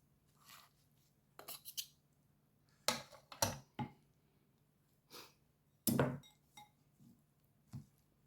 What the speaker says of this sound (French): Alors, je vais prendre avec la fourchette. Je vais commencer à en mélanger.